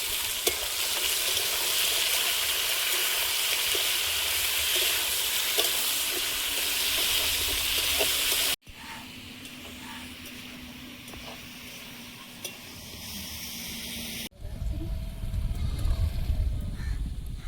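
Round slices of garden potatoes with whole cumin frying in a pan, a steady close sizzle with light stirring that runs unbroken, then continues more quietly after two cuts.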